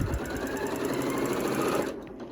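A Horizon Memory Craft 9410QC computerized sewing machine stitches fabric in a steady, close whirring run that stops abruptly near the end.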